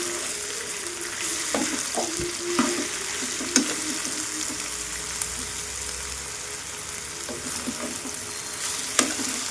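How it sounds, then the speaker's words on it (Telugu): Raw banana pieces frying with salt in a pan, a continuous close sizzle with occasional utensil clicks and scrapes as the pieces are stirred, no talk. "ఇప్పుడైతే మొత్తం కలిదిప్పుకుందాం."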